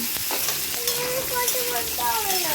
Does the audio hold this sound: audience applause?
no